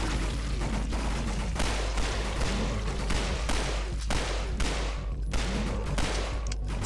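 Rapid, dense gunfire in the Half-Life 2 mod Nightmare House 2, pistol shots mixed with enemy shotgun and SMG fire, loud and continuous over a heavy low rumble for several seconds.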